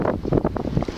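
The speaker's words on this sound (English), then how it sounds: "I'm sure you can probably hear it on the microphone how windy it is." Strong wind buffets the microphone, a loud, rumbling low roar that surges and gusts continuously throughout.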